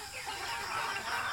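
Chickens kept on a farm cluck and call together in a busy, continuous chorus of overlapping, fairly loud clucks and squawks, with no talk over them.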